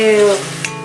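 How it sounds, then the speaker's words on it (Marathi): Masala spices roasting and sizzling in a pan, a short close-up frying hiss with a faint tonal hum, loud at first and easing off within a second. "आपला मसाला छान भाजून शिजवून झालेला आहे।"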